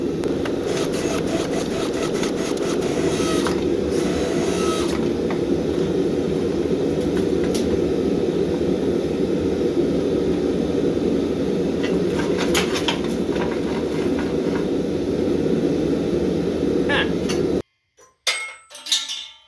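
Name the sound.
blacksmith forge roaring while running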